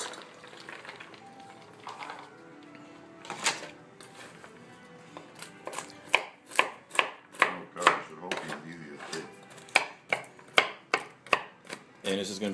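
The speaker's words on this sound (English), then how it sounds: "very carefully chopping up each fruit into little bite-sized cubes." Fruit being chopped by hand into small bite-sized cubes for a fruitcake, a steady run of sharp knife-on-board taps that grows faster and louder midway, close up with faint background kitchen noise.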